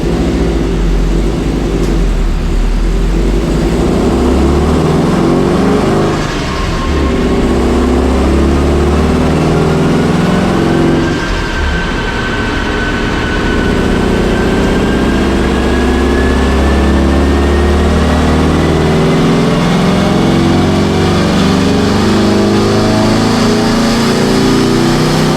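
A JDM Subaru EJ20X engine is revved hard on a dyno, droning loudly and steadily for a long pull that rises in pitch, with a couple of rough stumbles from a misfire around 5300 rpm.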